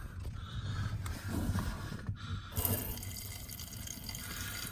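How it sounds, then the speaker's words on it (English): Water hisses and splashes steadily from a hose spraying into a Porsche Cayenne's footwell, with a brief dip midway, then continues with a faint trickling and dripping underneath. "So spraying water in there."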